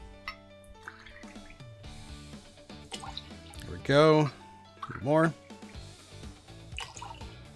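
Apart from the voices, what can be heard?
water pouring into mixing tin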